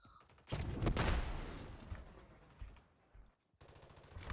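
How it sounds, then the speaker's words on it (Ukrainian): In Call of Duty: Warzone, a burst of automatic gunfire rattles out in rapid shots, loudest at the start and tapering off, followed by a short lull and then a second quick burst at the end. "Мені здається, по нас стріляли з іншої будівлі."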